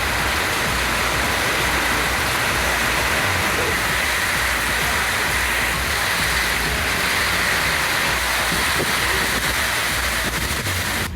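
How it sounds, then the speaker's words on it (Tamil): Heavy rain driven by strong wind pours down at midnight in Perambalur district, making a loud, dense, unbroken roar with no voices. "பெரம்பலூர் மாவட்டத்தில் பரவலாக நள்ளிரவிலும் பலத்த காற்றுடன் கனமழை கொட்டி தீர்த்தது."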